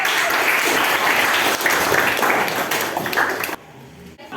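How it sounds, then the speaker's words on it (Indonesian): A classroom of students claps together during a lesson, a lively burst of many hands lasting a few seconds before it cuts off abruptly into near quiet. "Tepuk tangan buat"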